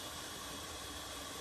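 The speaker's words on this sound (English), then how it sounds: "there's quite a bit of steam coming out" A steady, soft hiss of steam escaping from a facial steamer, even and continuous with no breaks, close by and fairly quiet.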